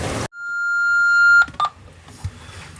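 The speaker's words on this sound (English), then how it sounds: "now we have a proximity alarm" A boat's proximity alarm holds a steady electronic beep for over a second, then two short clipped beeps follow amid quiet background hum, during an overnight sail across the Gulf Stream.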